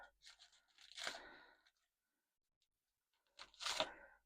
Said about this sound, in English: need my pair of scissors for this because I cannot get into it